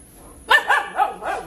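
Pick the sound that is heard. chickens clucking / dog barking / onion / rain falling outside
dog barking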